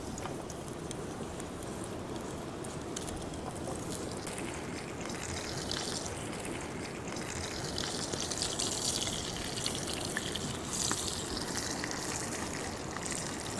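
Sliced leeks sizzle in hot oil in a pan, a steady, hissing fry that holds at an even loudness throughout with no talk over it.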